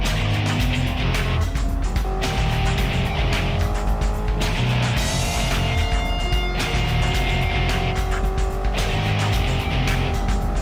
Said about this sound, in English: uko might be in a bit of danger here because that Pantera has some lethal straight line power